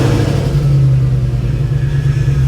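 An Audi RS6 engine runs with a steady, loud low rumble and a sustained hum, heard close with no talking.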